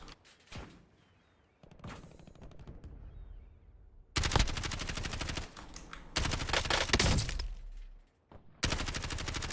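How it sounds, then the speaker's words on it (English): Rapid automatic gunfire in the video game Call of Duty, fired through a wall at an opponent: a few faint shots, then loud sustained bursts of machine-gun fire with brief gaps, close and dominant. "I'm gonna keep shooting at him through the wall."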